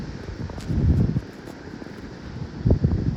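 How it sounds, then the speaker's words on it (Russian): Wind buffets the microphone on the shore of Lake Ladoga as waves roll and break, low rumbling surges swelling twice over the steady gusty roar, no speech. "Волны бьют прямо."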